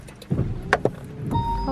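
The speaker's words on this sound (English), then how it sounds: "Give it a little rev." A Citroen C1 engine runs close by and is given a short rev, rising briefly from a low idle rumble with a few mechanical clicks around it.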